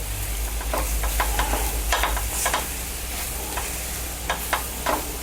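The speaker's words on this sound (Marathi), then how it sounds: "हलका परतून घ्यायचा आहे नारळ" Grated coconut lightly sautéed in a pan for besan barfi gives a soft continuous sizzle, broken by repeated scraping stirs of a spatula at an irregular rhythm, close by and alone.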